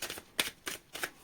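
Playing cards are shuffled three times during a late-night card reading, each a short papery riffle burst spaced about a third of a second apart, close and fairly quiet with no talk over them.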